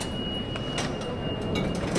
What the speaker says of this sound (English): So right now we're entering the A-Train Uptown platform at Penn Station.